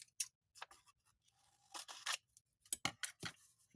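Scissors snipping paper during glue book crafting: a series of quiet, close crisp cuts in irregular bursts, some quick double snips, in an otherwise silent room.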